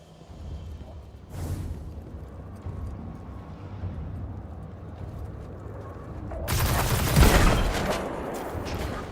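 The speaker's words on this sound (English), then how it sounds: "I hear a turret." A turret opens fire in Destiny 2, a loud burst of rapid gunfire erupting near the end after a quieter stretch of rumbling ambience and a brief earlier blast.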